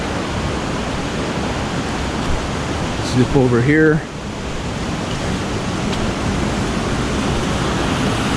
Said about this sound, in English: Little waterfall, not that spectacular, but beautiful pool.